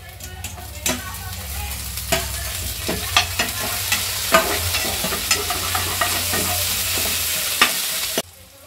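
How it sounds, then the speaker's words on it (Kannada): Tomatoes fry in a pan, a steady close sizzle broken by regular scraping knocks of a spatula stirring, ending abruptly as the sound cuts off near the end. "ಈಗ ನೋಡ್ರಿ ಟಮಾಟಿನ ಚಲೋ ಫ್ರೈ ಆಗಿಬಿಟ್ಟಾವ"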